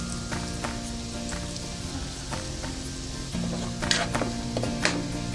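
Shrimp and garlic sizzling in butter in a pan, a steady close crackle with scattered pops and clinks of stirring, growing a little louder partway through as more goes into the pan.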